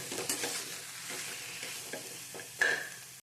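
Turmeric gets stirred into a tomato filling for dosa in a pan, giving a quiet, steady sizzle with soft scrapes and one brief louder clatter near the end before it cuts off.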